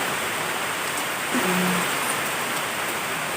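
Steady rain pours down outdoors during a long-awaited downpour brought by a low-pressure system, a continuous even hiss of drops on surfaces that holds at a constant level throughout.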